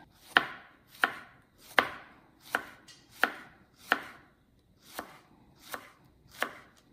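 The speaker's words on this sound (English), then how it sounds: "we'll chop up the rest of the vegetables that will go in at the very end just to warm up" Vegetables for a soup being chopped on a board, nine crisp, evenly spaced knife strikes about two thirds of a second apart, close and clear in an otherwise quiet kitchen.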